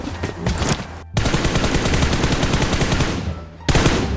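Rapid automatic gunfire in PUBG Mobile rattles in dense bursts, loud and close, with a short gap of silence and then another burst near the end.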